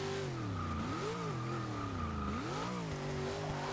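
A 1997 Land Rover Defender 90 in Forza 6 brakes from speed, engine tone dipping and rising with gear changes amid a brief tire squeal, loud and close throughout.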